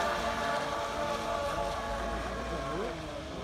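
An Aeronaut Princess model boat runs its electric motor at full throttle on a lido, a steady whirring hum with faint rising tones, heard with people talking nearby.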